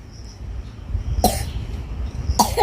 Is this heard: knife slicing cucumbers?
no